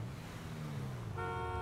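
Car horn honked in GTA 5, a steady tonal blast that starts partway through over a low engine rumble, fairly close and alone with no talk.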